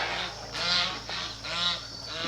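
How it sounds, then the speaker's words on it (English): Geese and ducks honk and call repeatedly in bursts from a short distance, nasal cries rising and falling over a faint outdoor background. "The ducks are either trying to mate or they're fighting. The ducks and the geese."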